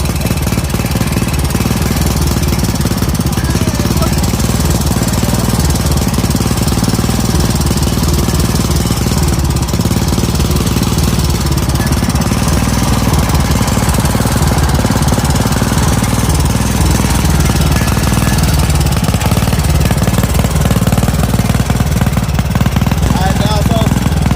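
A lawn mower engine, recently repaired after a fuel line problem, runs loudly and steadily throughout, a continuous rough mechanical drone with no pauses.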